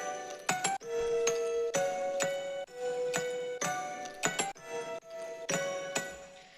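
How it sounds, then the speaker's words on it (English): A music box plinks bright, tinkling notes within an electronic track, with sharp percussive hits punctuating a quick, repeating melodic pattern. "And we added some support music box here."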